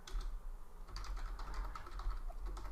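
Steady typing on a computer keyboard, a continuous run of quick, close key clicks with no pauses or voices.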